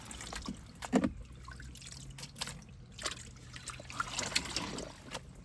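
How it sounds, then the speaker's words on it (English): Washing machine draining water during its drain cycle, a faint, uneven trickle and dribble of liquid with scattered soft knocks, quiet and continuous. "So we are going to do a drain cycle."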